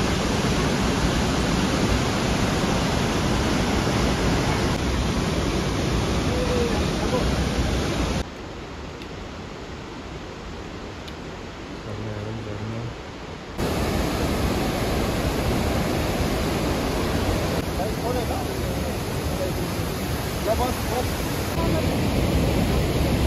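A mountain river rushes beside the North Annapurna Base Camp trail on the Maurice Herzog route, nearing a bridge: a loud, steady broadband roar of whitewater that dips to a quieter, more distant wash midway before surging back.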